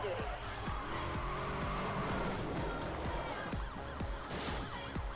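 A car in the racing game Need for Speed: Most Wanted skids with squealing tires over a loud, continuous engine roar, sliding and screeching for several seconds.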